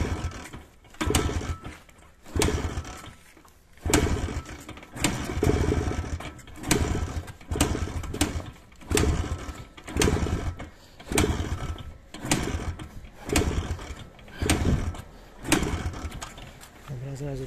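An old classic vehicle's engine cranks repeatedly in rhythmic bursts without catching, each churning attempt close and loud, with a person talking over and between the cranks.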